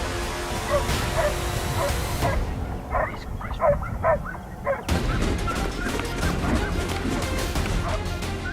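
Hunting dogs give several loud barks and yips during a wild hog hunt in Louisiana, mixed with crashing and thrashing noise and some voices, the barking clearest in a short burst midway.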